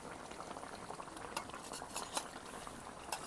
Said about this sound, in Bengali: একটু ঝোল উঠিয়ে নিয়ে তার সাথে জিরাটা মিক্সড করে একটু পাতলা করে নিলাম